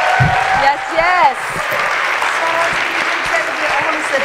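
A conference crowd at the NEC CommonBound 2018 gathering applauds a panel with loud, dense, sustained clapping, while voices and cheers rise briefly over it near the start.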